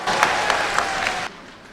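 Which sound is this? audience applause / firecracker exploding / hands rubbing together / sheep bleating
audience applause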